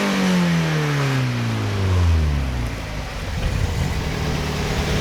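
A Mazda Miata NA6 fitted with a Yonaka exhaust revs hard and loud, the engine note sweeping down as the revs fall, then settling into a rough, rumbling idle, close by with no talking.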